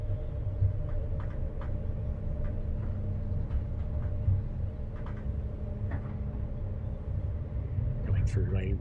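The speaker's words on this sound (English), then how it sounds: "This train is very responsive in how fast it speeds up and slows down," A train runs in the Train Sim World video game, a steady loud low engine drone with a sustained hum. Faint clicks and knocks sit on top, and a brief sharper sound comes at the end.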